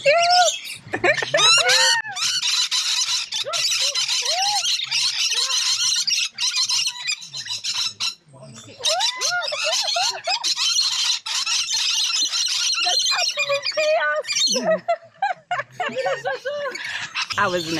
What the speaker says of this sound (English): I was in the middle of bird drama.